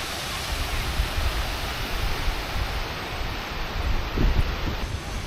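Surf breaks against the rock beach of Pondicherry on the Indian coast, heard as a steady, broad roar of waves with gusty wind buffeting the microphone, loud and continuous.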